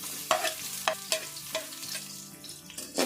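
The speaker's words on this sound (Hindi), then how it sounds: "यहाँ पे प्याज को मैंने हल्का सा फ्राई कर लिया।" Onions frying in oil in a kadai with whole cumin seeds, a steady sizzle broken by several sharp stirring scrapes at an uneven rhythm, close and moderately loud, with no voices.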